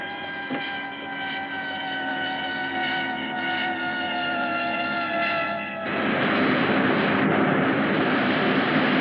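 A film aircraft engine roars steadily through a power dive, a sustained droning whine with tonal harmonics that swells into a harsher, louder rush partway through.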